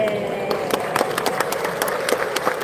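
An audience clapping in scattered, uneven bursts at a Catholic priest's talk on marriage, a voice speaking over the applause.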